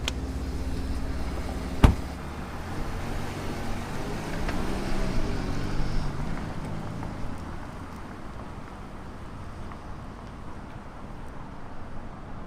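A 2020 Bentley Flying Spur saloon drives with a low, steady engine and road hum heard from inside, a sharp click near the start, then a smooth rising tone as it moves off.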